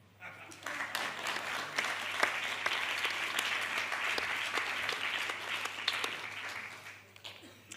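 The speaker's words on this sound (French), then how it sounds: "je vous propose de l'applaudir" Applause for the president at an association congress plenary, a large audience clapping in a sustained, dense wash with a few louder claps, under a faint hum.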